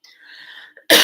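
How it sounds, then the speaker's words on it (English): A single sharp cough bursts out loudly at the very end, after a moment of faint, breathy throat noise. "I'm going to have to cough again."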